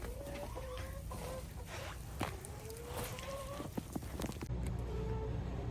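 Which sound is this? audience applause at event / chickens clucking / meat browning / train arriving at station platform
chickens clucking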